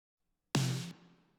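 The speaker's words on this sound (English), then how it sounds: "I sampled my own snare and threw a ton of compression on it." A self-sampled snare drum heavily squashed by compression, EQ'd with highs rolled off: one sharp, loud hit with a dense sustained body and a short tonal ring that cuts off, then a fading tail, alone.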